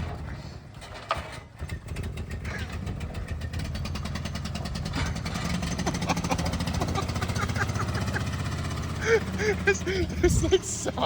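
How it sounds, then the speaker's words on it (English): A blown-up mini truck engine runs with a rough, buzzy, rattling idle like a two-stroke golf cart, steady and close for the whole stretch, with a few louder revs and clanks toward the end. "This like sounds like a two-stroke golf cart"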